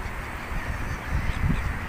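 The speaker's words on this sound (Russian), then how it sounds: "Столько чаек, смотрите." Seagulls call at the seaside, a few honking cries rising briefly over a steady low rumble of wind and surf, mid-distance and not very loud.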